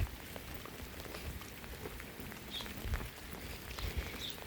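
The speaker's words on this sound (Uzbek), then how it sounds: "Lekin yomg'ir zo'r yog'yapti." Steady heavy rain falls outdoors near a back gate, a dense continuous hiss of drops with occasional louder splashes, no voices.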